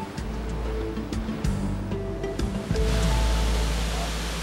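A Thai waterfall fed by underground water pours in a steady broadband rush, with a few faint tones and sounds of activity nearby.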